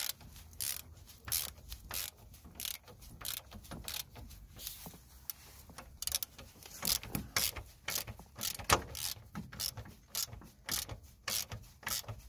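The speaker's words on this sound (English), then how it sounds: "just gonna drive in the lower ball joint mount bolt" Ratchet wrench with a 16mm socket driving in a lower ball joint mount bolt on a Nissan Note suspension control arm, a close, rapid series of clicking ratchet strokes in irregular bursts, alone without talk.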